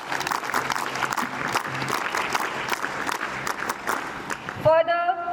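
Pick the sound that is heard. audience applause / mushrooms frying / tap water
audience applause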